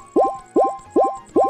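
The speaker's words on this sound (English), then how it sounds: "This is the sound effect that you get when you recover your hearts from The Legend of Zelda Twilight Princess." Heart recovery effect from The Legend of Zelda: Twilight Princess, four quick identical bubbly plops in an even rapid rhythm, clean and close with no talking.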